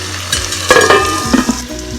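Tomato and mango cooking in a pan for a spicy Nellore-style fish curry, with a steady sizzle and frying hiss broken by a few louder stirring scrapes, close and alone.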